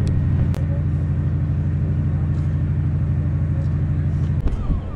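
Steady low rumble of a motorhome cruising on a road, constant engine and tyre drone throughout with a couple of faint knocks.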